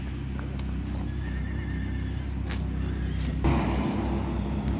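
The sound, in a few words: Karabair foal being walked past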